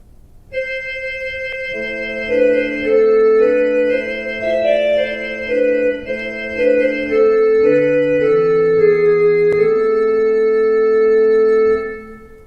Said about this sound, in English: Those are the flutes on the Swell, on the top manual keyboard.